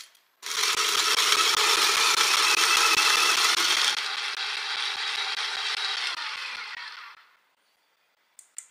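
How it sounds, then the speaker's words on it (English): An Aikamo motorised attachment on a manual coffee grinder whirs loudly for several seconds, its pitch shifting partway through, then winds down and stops, followed by a couple of small clicks. "let's turn on the grinder again"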